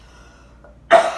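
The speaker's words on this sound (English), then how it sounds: "I'm still coughing." One short, loud cough bursts out at close range after a near-silent pause.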